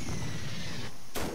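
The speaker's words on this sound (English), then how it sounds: "I thought somebody died of that explosion." Explosion in the World War One Medic video game, with a sustained rumbling blast followed by a sharp, bright burst near the end, loud and heard without any talk.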